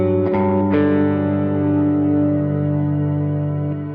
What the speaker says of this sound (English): If you would set it to 7 semitones, a fifth, it's quite difficult